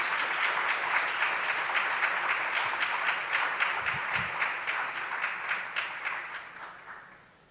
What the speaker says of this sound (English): a round of applause as she comes to the stage